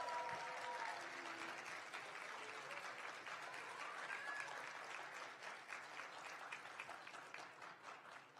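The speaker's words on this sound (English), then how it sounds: "Let's give them another round of applause." At a university student leadership awards ceremony, the audience applauds a student organization named Organization of the Year. The clapping is quiet, even and steady, tapering slightly toward the end.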